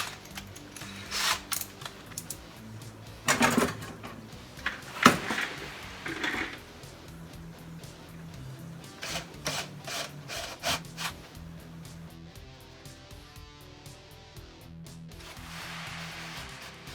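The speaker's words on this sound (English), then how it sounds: "Okay, so now I'm going to go ahead and stick the bit in the drill," An electric drill bores inlay holes in the wooden fretboard of a homemade electric guitar, with close, intermittent bursts of grinding and rasping separated by short pauses and a steadier stretch toward the end.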